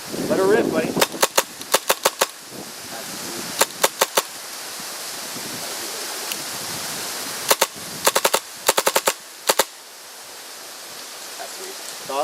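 Tippmann M4 gas blowback airsoft rifle firing outdoors, loud sharp cracks in quick semi-auto strings and single shots spread across the stretch, over a steady background hiss.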